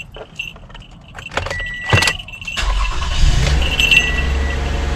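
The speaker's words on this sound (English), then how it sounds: "So I'm going to start up the vehicle." A 2016 Toyota Sienna SE is started: keys jingle and click near the ignition, then the engine catches and settles into a steady, loud low idle rumble.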